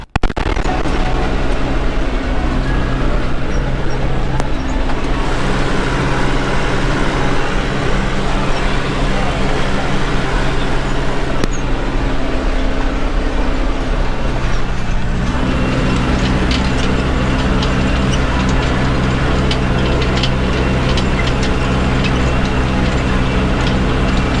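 Tractor pulling a vibrocultivator through a field, a loud steady engine drone with rattling implement noise running continuously, with a voice talking over it in places.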